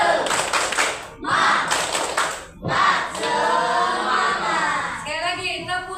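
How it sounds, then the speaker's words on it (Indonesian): A school class performs a spirit clap, children clapping in rhythmic bursts mixed with shouted chanting voices, loud and close, with short pauses between clapping phrases. "Oke, tepuk semangat."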